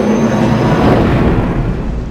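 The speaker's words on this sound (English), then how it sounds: "Light speed engines online." Sound effect for spaceship light-speed engines engaging in a sci-fi audio drama: a loud, dense rumbling roar that swells and holds, then eases slightly, with no voices.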